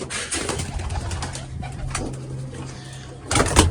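Pigeons being released outdoors coo nearby, followed by a sudden burst of wing flapping as they take off near the end.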